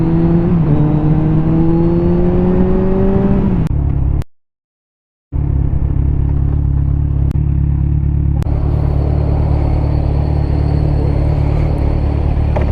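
A Kawasaki Z1000R motorcycle engine revs up loud and close, drops out abruptly for about a second, then settles into a steady heavy idle rumble.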